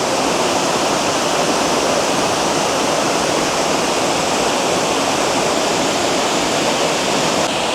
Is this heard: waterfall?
yes